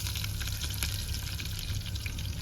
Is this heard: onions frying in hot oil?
yes